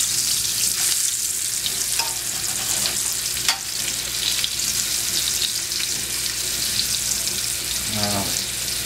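Beef shanks brown in a hot pan for a burgundy braise, with a constant busy sizzle, a few light utensil clinks and taps, and a short tonal sound near the end.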